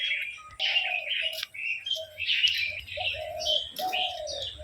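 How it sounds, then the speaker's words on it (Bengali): Dove calls ring out in repeated short phrases, fairly close and clear, with faint low background rumble and no talking. "সীমা ঘুঘু পাখি ডাকতাছে"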